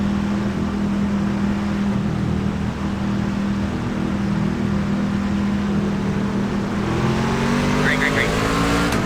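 A NASCAR Gander truck engine at Darlington Raceway in iRacing drones loud and steady throughout, then rises in pitch near the end as it accelerates.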